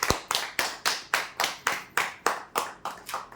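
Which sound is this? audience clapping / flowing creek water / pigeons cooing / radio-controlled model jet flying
audience clapping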